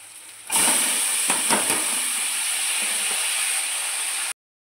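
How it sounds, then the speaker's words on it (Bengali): Radish greens dropped into hot oil in a pan, a sudden loud, bright steady sizzle and steam hiss starting abruptly and holding close until a clean cut, with a few stirring knocks early on and no talk. "এবার আমি শাকটা দিয়ে দিব।"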